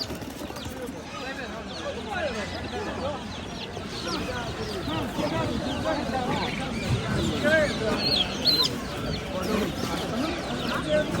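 Chickens and ducks clucking and squawking throughout at a poultry market, a dense, continuous flock noise with occasional wing flaps, mixed with people talking nearby.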